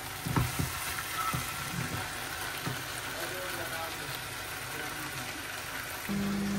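Chicken pieces for a roast sauté with spices in a hot pan, giving a steady, soft sizzle and crackle close by, while someone talks over the cooking.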